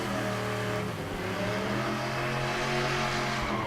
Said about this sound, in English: Michael Butterfield finishes his burnout in the 3rd Gen Camaro.